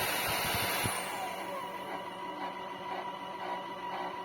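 The spinning brush of an Ultenic AC1 floor cleaner whirs steadily during self-cleaning, a faint, continuous mechanical hum with a few brief knocks at the start.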